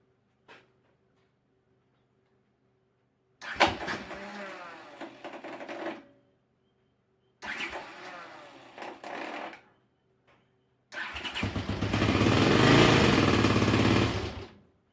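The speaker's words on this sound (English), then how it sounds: "Big knocking sound from one of those. Seems like the tappets are way out." A Honda CX500 motorcycle engine with badly adjusted tappets cranks and fires in three attempts, each a close, rough, clattering run with a mechanical knocking. The last start builds into a louder sustained run.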